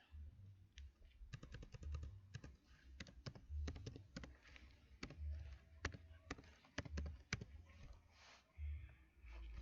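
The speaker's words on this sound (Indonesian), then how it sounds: "Kita ketikkan nano" Irregular keystrokes on a computer keyboard entering the nano command in a Debian 10 terminal, sharp, quiet clicks scattered over several seconds with short gaps, no voices.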